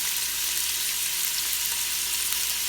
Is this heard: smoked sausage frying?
yes